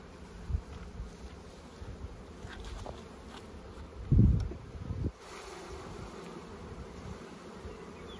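Honeybees hum around an open hive as brood frames are shaken into it, a soft steady buzz with a louder thump and burst of movement midway.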